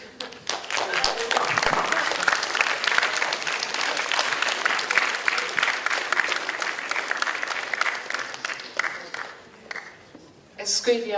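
An audience in a conference hall applauds after a talk, dense sustained clapping that thins toward the end before a voice comes in.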